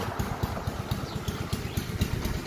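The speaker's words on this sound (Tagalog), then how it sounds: "Nagpagawa kami ng kuliglig." A kuliglig hand tractor engine idles close by at home in the Philippines, a steady loud chugging with rapid regular low thumps and a faint clatter, with no talk over it.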